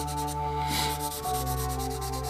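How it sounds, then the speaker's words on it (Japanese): A fine 600-grit Yasuri no Oyaji file rubbing a 1/48 F-4E Phantom II model part, close scraping strokes in a steady rhythm over a constant low electrical hum. "これ日本のメーカーでの商品でヤスリの親父っていうんですよ。"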